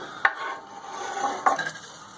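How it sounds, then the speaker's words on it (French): Chopped onions tipped into a hot oiled pan for a nettle and spinach tart, two brief scraping clatters over a soft, steady sizzle, close and fairly loud, with no talk. "la poêle est chaude, il y a de l'huile. On prend les oignons."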